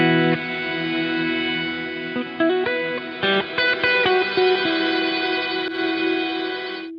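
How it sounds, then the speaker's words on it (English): An electric guitar played through the pure particle reverb preset on a Headrush Gigboard rings out with sustained chords and a few picked notes, washed in shimmering reverb trails, loud and with no one talking. "The default is a pure verb, a pure reverb."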